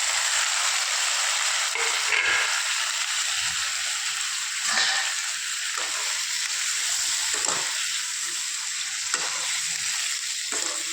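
Onion and tomato sautéing in a pan in a home kitchen, a steady close sizzle with occasional scrapes and stirs, no talking.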